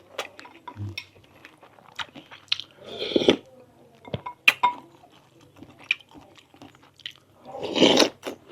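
Crunchy food being bitten and chewed close up, a run of sharp crisp crackles and munching bursts spread over several seconds, with a couple of louder crunching spells, no talk.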